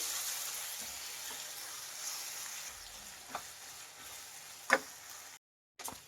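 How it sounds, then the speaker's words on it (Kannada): Tomatoes and mutton cooking with turmeric in a pan give a soft, steady sizzle with a few spoon scrapes and knocks against the pan, close up and fairly quiet, cutting briefly to silence near the end. "ನೋಡಿ, ಟೊಮೆಟೊ ಎಲ್ಲ ಚೆನ್ನಾಗಿ ಫ್ರೈ ಆಗಿದೆ, ಸಾಕು."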